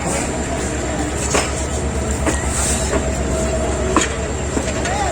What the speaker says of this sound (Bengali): আমাদের ট্রেন ছেড়ে দিল